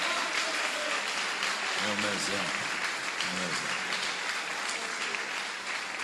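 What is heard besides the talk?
applause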